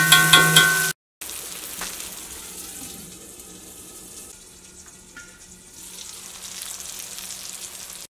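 Tomatoes with garam masala cook under a lid for a Kerala chicken roast, giving a muffled, low, steady sizzle and bubbling, preceded by a brief loud burst of a different sound.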